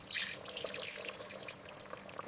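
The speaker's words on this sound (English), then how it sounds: "Add a little water, just a small amount, not too much." A small amount of water poured into a pot of cooking rice, a soft, close trickle and splash with light drips that thin out after an initial burst, heard alone.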